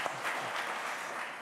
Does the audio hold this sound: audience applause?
yes